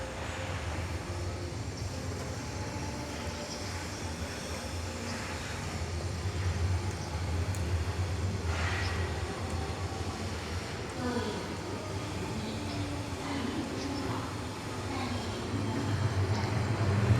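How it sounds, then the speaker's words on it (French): A tram pulls into a stop in Taipei, heard as a steady low rumble and rolling rail noise under a busy street-level background, with voices talking throughout. "Ah bah le voilà, notre ami le tram."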